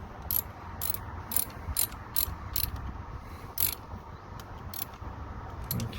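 A socket wrench ratchets in quick clicking bursts while tightening a car battery terminal, about a dozen short crisp ticks spaced through the stretch over a low background hum.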